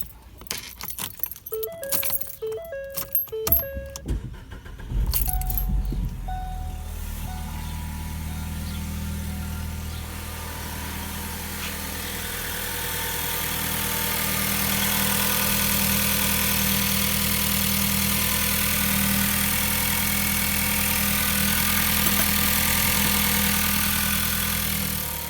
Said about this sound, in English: I guess I'll start the car up just to see how it sounds